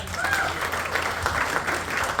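Audience applause at a stage launch event for a new Marathi song as the team's music arranger is called up: steady, full clapping from a crowd with a voice faintly present.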